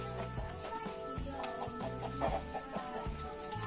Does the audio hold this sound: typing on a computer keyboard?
no